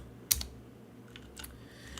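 Code typed on a computer keyboard while working on a Rust GUI project: a sharp close keystroke near the start, then a few softer scattered clicks over a low hum, with no talking.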